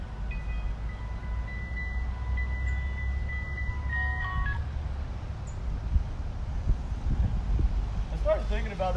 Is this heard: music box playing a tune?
yes